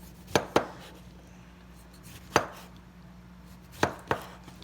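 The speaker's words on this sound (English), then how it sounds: "all I'm going to do is take and cut these with a knife" A knife cuts cucumber on a cutting board in a few sharp, close chops, spaced irregularly as two quick pairs and one single stroke, over a low steady hum with no talking.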